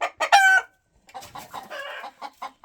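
One-year-old Adler breed chickens cluck close by in short repeated calls, opening with a louder drawn-out squawk and followed by a run of softer, choppy clucks.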